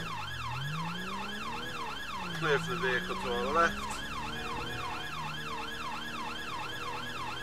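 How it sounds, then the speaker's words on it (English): A fire engine's wailing siren sweeps up and down continuously over the rumbling engine of the heavy vehicle, while someone speaks briefly partway through. "Come out, the sirens are on."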